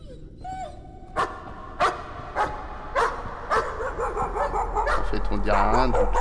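A dog barks in the horror game Layers of Fear, a series of sharp, evenly spaced barks followed by quicker yips and whimpers over a low rumble.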